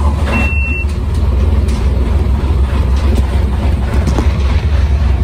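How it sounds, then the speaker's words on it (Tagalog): A lifeboat engine runs during an in-port abandon ship drill, a steady close, loud low rumble that holds evenly throughout with no voices over it. "Ayan, tumatak po yung engine natin."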